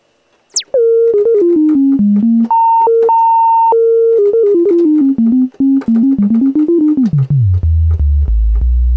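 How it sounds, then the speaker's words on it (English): A pure, whistling sine tone from a Roland SH-09 analog synthesizer's self-oscillating filter steps and glides between pitches, then sweeps down into a deep, loud bass drone. "use the resonating filter as a sine wave oscillator"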